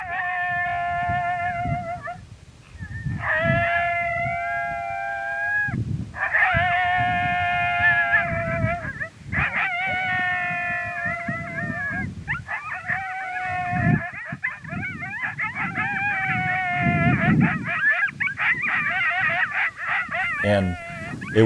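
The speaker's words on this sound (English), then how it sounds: "I ran down through and found Coyote Group Howl, I think it was, and just let it rip" An electronic caller plays a recorded coyote group howl outdoors: loud wavering howls, yips and whines in overlapping bursts, with short gaps, sustained across the stretch, while someone talks over parts of it.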